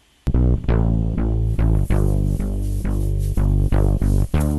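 A heavily distorted bass line in a BandLab mix, dry before effects, plays alone as a steady run of loud, gritty, sustained notes with rhythmic re-attacks.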